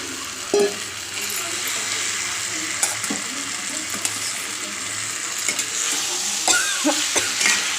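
Chicken frying in spiced oil in a pan, stirred with a spoon: a steady close sizzle with scraping and the occasional metallic clink of the utensil.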